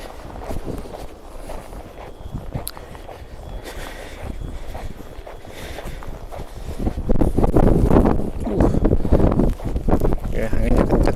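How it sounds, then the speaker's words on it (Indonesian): Strong wind gusts during snowfall in Muroran, Hokkaido, at minus 9 degrees Celsius, buffet the microphone with a rough, roaring rush that swells louder in the second half, with voices talking over it. "Ini posisi turun salju, angin juga kadang-kadang kenceng."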